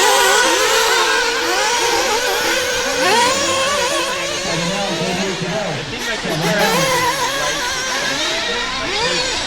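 A nitro RC buggy engine screams and revs continuously during a race, its high, buzzing whine rising and falling as the car accelerates, loud and close throughout.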